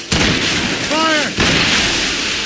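Cannon fire in the naval combat of Assassin's Creed Rogue: a loud, dense broadband boom fills the clip, briefly dipping before a second blast, with a shouted voice partly audible over it.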